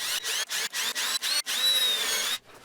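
A power drill bores screw holes into a glued wooden dartboard cabinet frame in several short whining bursts with brief gaps, then one longer run that winds down, close and fairly loud.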